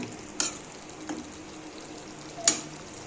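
Pepper chicken frying in a pan, a steady low sizzle broken by three sharp spatula taps or scrapes, close and moderately quiet.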